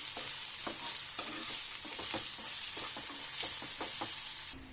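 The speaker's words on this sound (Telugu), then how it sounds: "అది మంచిగా మరలా ఇంకొకసారి కలుపుకుందాం." Tomatoes fry and sizzle in a pan while a spoon stirs them in repeated scraping strokes, a steady close crackle with no voices.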